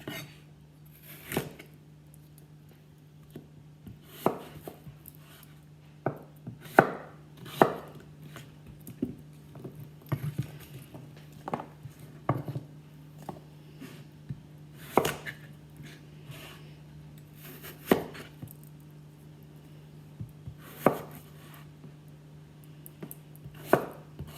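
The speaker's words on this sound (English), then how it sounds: "Cut it in small bite-sized bits." A knife chops fruit into bite-sized pieces on a board, with sharp, irregular knocks spaced a second or two apart over a low steady hum, close and fairly quiet.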